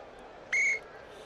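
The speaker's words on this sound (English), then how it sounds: "A whistle." A referee's whistle at a 1975-76 NCAA college basketball game, Marshall at Austin Peay: one short, sharp, shrill blast rising clearly over a low crowd murmur.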